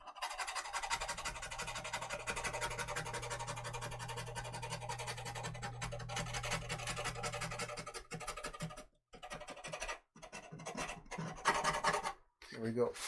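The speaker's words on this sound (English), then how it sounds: "I got to scrape off the texture where I don't want it." Texture is scraped off a dry oil painting of a landscape, a steady close rasping scrape that runs for several seconds, then stops and restarts in short strokes with brief pauses.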